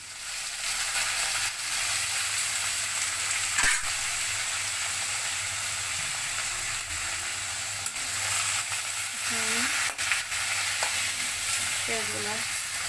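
Boiled red amaranth greens go into a pan of frying browned onions, and a loud, dense sizzle holds steady throughout, with occasional clicks and scrapes of stirring.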